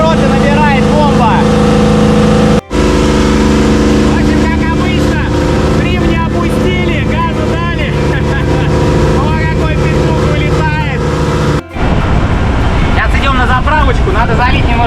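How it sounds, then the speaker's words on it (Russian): A yacht's outboard motor being run in, running fast and steady with a loud, even engine drone close by and two brief dropouts, during a storm. "Главное, чтобы мотор сейчас было хорошо слышно. Звук отличный, ровный, вообще никаких лишних звучков."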